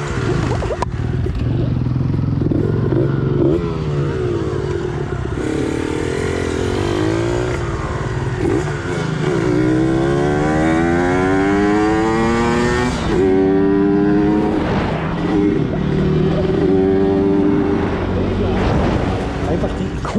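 A 30,000€ iconic 1990s scooter capable of over 200 km/h revs hard up close, its engine rising and falling in loud, rasping sweeps throughout, with a voice briefly heard alongside.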